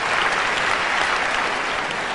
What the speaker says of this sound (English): You weren't supposed to clap that.